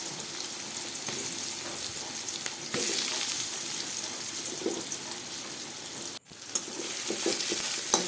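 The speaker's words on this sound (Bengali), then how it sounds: "পেঁয়াজটা কিন্তু খুব বেশি ভাজলে হবে না, হালকা করে ভেজে নিতে হবে।" Onion fries lightly in a pan, a continuous moderate sizzle with occasional stirring and a short break partway through, no voices over it.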